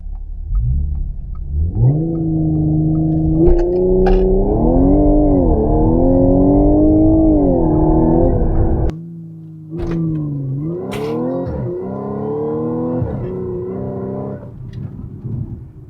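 Tuned car with a Stage 1 Plus upgrade on a test drive, its engine revving loudly up through the gears in long rising pulls, a brief lift-off pause, then another hard acceleration, close and dominant.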